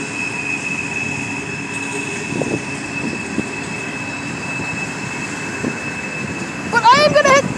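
A train rolls past in Elkhart, Indiana, its cars producing a steady rumble with faint clicks and a sustained tone, ending in a burst of high wheel squeals. A brief voice can be heard along the way.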